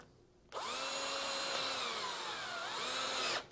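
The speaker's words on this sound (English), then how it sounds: "Tighten the screw down" A cordless drill drives a screw into a baluster of an AZEK Reserve rail system, one sustained whirring burst of about three seconds with a slight pitch dip as the screw tightens, close and alone.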